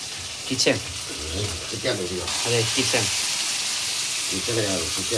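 Steady loud sizzling of chicken frying in a hot pan, with a voice speaking over it throughout.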